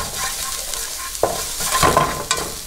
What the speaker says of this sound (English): I want to roast the garlic until it gets a little bit golden